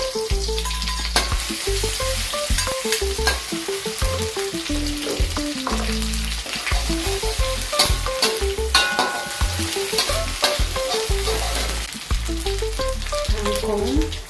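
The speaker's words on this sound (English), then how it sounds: "stir fry the garlic, anchovies, belacan, and chili" Garlic, anchovies, belacan and chili stir-fry in a hot wok, a loud, continuous close sizzle broken by frequent scraping and clattering stirs of the spatula throughout.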